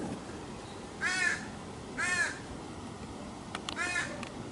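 Three loud, harsh caws from a crow, evenly spaced about a second apart, carry over steady outdoor ambience on a hot, sunny California hiking trail.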